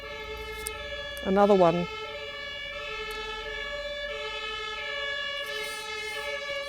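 Ambulance sirens wail past at a distance, the steady electronic tones running throughout at moderate level, with a brief louder warbling burst early on and a voice speaking softly over them.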